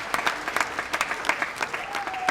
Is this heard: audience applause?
yes